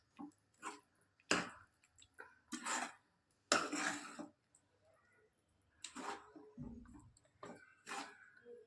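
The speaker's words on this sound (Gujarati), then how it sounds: "અને તેને પણ એકદમ મિક્સ કરી લઈશું" A spoon stirring a paneer and gravy mixture in a pot, with irregular close metallic scrapes and clinks separated by short quiet gaps.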